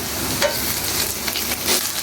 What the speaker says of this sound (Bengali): আদা রসুন বাটাগুলো তেলের সাথে হালকা ভেজে নিলে